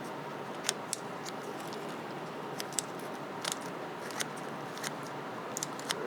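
A knife slicing shiitake mushrooms off a cultivation block as it rotates, giving a faint series of short, crisp cutting clicks at an uneven pace against a quiet background.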